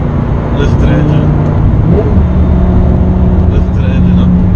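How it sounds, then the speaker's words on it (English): A Lamborghini Gallardo engine drones loudly and steadily from inside the car while driving, a constant close rumble with no distinct revving. "Listen to the engine."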